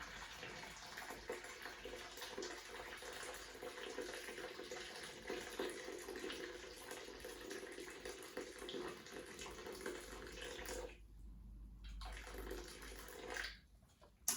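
A steady, close stream of boiling water, about 1.5 kilos, pours into a container with a continuous splashing hiss that cuts off near the end.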